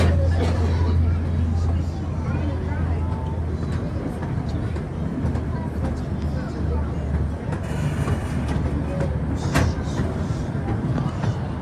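A zoo train at Brevard Zoo rumbles steadily along its rails with continuous low mechanical noise, and faint voices murmur in the background.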